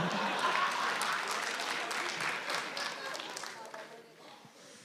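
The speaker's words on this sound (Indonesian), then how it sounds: "Beri tepuk tangan untuk dokter dari Timika." Studio audience applauding a stand-up comedian, a doctor from Timika, at a comedy talent show: dense clapping fades gradually over about five seconds.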